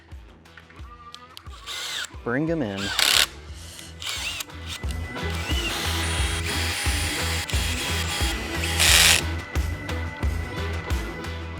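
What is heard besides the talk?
power drill tightening roof rack crossbars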